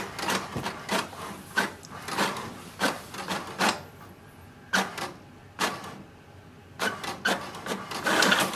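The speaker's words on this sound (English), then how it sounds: "It will send a command for the printer to print the printer information page." An HP DeskJet 2700e inkjet printer prints its information page, the print head carriage sweeping back and forth in repeated short whirring passes separated by brief pauses, close and clear, with no talking.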